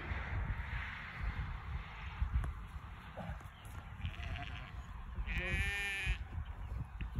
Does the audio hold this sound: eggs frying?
no